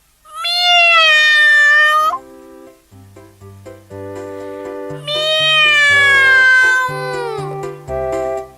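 Two long, drawn-out meows, loud and close, sound in a children's song about a puppy that meows, with simple keyboard notes playing between and under them.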